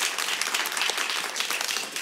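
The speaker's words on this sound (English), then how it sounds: "Can we get a round of applause?" An audience at a women's health town hall applauds in a steady, dense round of clapping that fills the room at even loudness for the whole stretch.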